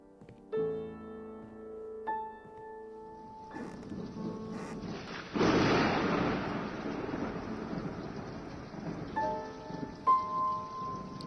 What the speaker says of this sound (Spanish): un intenso relámpago, una reverberación chasqueante y la primera descarga de un aguacero torrencial que batía demencialmente contra las ventanas